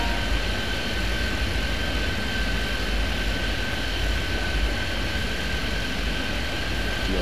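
An airplane engine roars steadily during takeoff in an air traffic control video game, a loud, continuous broadband rumble with a faint sustained tone and no talking.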